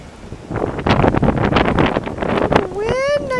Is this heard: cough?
no